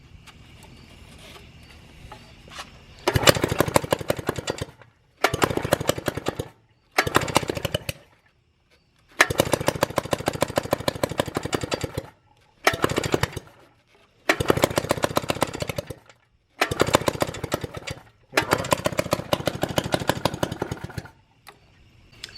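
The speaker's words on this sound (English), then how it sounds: "we got that one cranking over, spitting flames, and it has potential" A two-stroke quad engine from a cheap four-wheeler cranks over in repeated loud bursts of a few seconds each, with short silent gaps between, close to the microphone.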